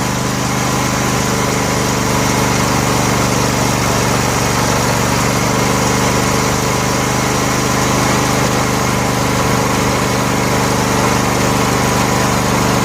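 A Briggs & Stratton Entek 22 HP twin engine on a John Deere L118 lawn tractor idles steadily, a constant close mechanical drone running without break or change throughout.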